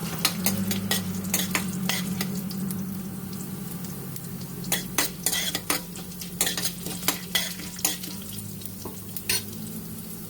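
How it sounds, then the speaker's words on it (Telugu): Chana dal, urad dal, mustard and fenugreek seeds fry in hot oil for a tempering. A steady sizzle runs throughout, with sharp spoon-stirring scrapes and clinks against the pan, and there is no talking. "ఇవి 1 మినిట్ ఫ్రై అవ్వాలండి."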